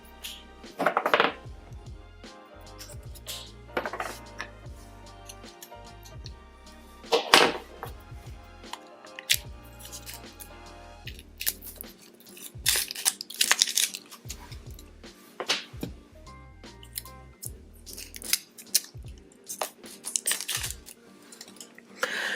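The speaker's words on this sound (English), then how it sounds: "Let's go ahead and get these cut open." Washi tape packaging is cut open up close: crisp crinkling plastic, sharp snips and scattered crunchy rustles come in irregular bursts with quiet gaps between.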